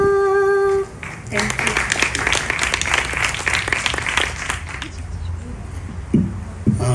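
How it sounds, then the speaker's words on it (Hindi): An audience breaks into sustained applause, many hands clapping steadily for several seconds after a brief held musical tone fades out. "प्रेरणा जी का एक बार फिर से तालियों से धन्यवाद करते हैं"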